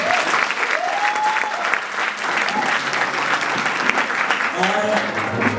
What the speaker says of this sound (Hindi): तो एक बार तालियां बजाओ और स्वांग शुरू।